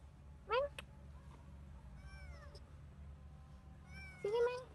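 A kitten found near a well in a back garden gives two short, loud meows, with fainter chirping birds between them over a quiet outdoor background.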